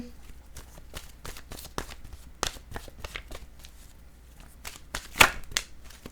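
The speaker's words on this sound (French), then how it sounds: "Je vais piger maintenant une carte" Tarot cards being shuffled and drawn, a run of quick, crisp riffling flutters and snaps close by, in irregular bursts with short gaps between them.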